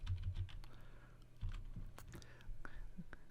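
A web address being typed on a computer keyboard, quick irregular key clicks close by, with faint quiet speech in the background.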